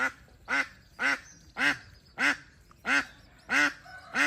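Ducks quack steadily, eight loud evenly spaced calls about half a second apart, close and clear with little else around, as a crocodile slowly stalks them.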